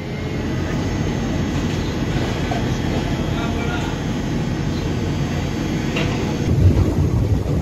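Koyna Express passenger train running from Kolhapur to Pune, heard as a steady, loud, close rumble of the carriage that swells slightly toward the end.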